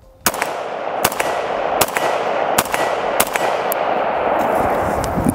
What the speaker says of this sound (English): Let's see where that brass is shooting out this time and that felt recoil.